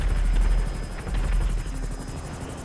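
Hunter attack helicopter in a video game, its rotor whirring loudly and steadily with rapid pulsing blade chop throughout, a low drone underneath.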